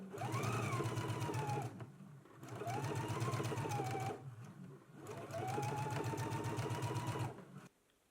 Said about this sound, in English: let's go ahead to the sewing machine and do our top stitches now